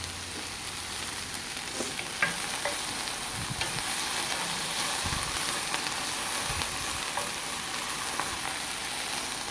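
Salmon kabobs sizzle in a cast iron pan, a constant bright close hiss with scattered small pops and occasional soft low knocks, left undisturbed.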